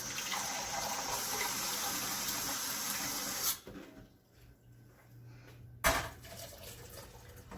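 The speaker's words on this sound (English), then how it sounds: "I'm going to put some water in here." Water pours steadily from a tap into a pot of elderberries, a broad rushing splash for a few seconds that cuts off, followed by quieter handling noises and a short second burst.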